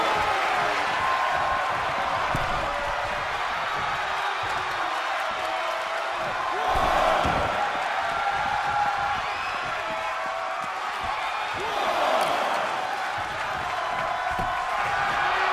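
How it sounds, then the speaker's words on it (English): A large arena crowd in a wrestling video game roars and cheers continuously, a dense wash of voices that surges a couple of times, with commentary talk over it. "The sound of this crowd is deafening, and he's asking for more."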